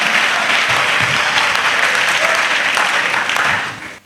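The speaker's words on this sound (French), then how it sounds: "Offrons l'acclamation à Jésus" A church congregation applauds steadily in praise of Jesus, a dense, loud wash of clapping that carries evenly before tapering off at the end.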